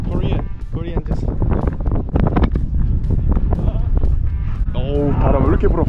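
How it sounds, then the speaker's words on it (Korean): Strong wind buffets a microphone during a motorbike trip in Mongolia, a constant loud rumble beneath people talking in Korean. "바람 왜 이렇게 불어"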